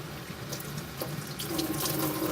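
Water pours through the fine mesh of a cheap juicer, a steady close splashing and trickling that swells slightly toward the end, with no voices.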